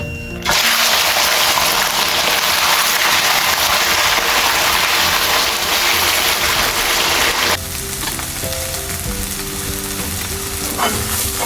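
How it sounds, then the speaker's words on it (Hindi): Chicken pieces dropped into hot oil left from browned onions, a loud close sizzle and crackle that settles into a steadier, softer frying sound partway through, with occasional stirring and no speech. "इसी ऑयल में अब हम चिकन ऐड करेंगे"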